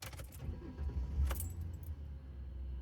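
A Ford Explorer Sport Trac engine cranks and starts close by with a brief jangle of keys, then idles and rumbles as the vehicle begins to move.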